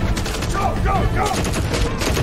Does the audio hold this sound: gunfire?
yes